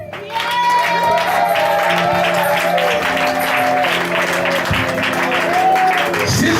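A church congregation applauds and cheers in praise, sustained clapping filling the room while a voice and musical tones carry on over it.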